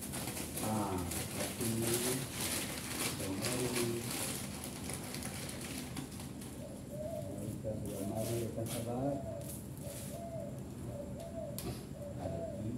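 Pigeons coo in soft repeated phrases over a steady background hum, with a person talking in the first few seconds.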